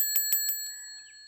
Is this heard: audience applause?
no